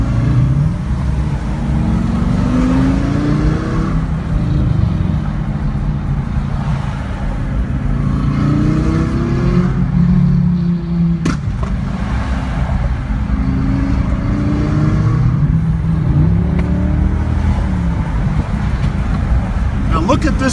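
A twin-turbo Lamborghini Gallardo heard from inside on a rough road: a loud, continuous engine drone climbs and falls through repeated revving sweeps over about twenty seconds, with road rumble underneath.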